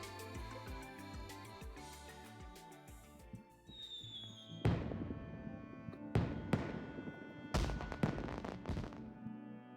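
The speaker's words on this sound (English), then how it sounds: "There's even a fireworks show." Fireworks show in the video game Trails From Zero: soft scored music first, then a rising whistle and several loud booming bursts with crackling tails, spaced a second or two apart.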